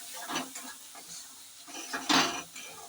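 A spoon scrapes and stirs turmeric and chili powder masala in a pan, a few soft close strokes with faint sizzling and one louder scrape near the end.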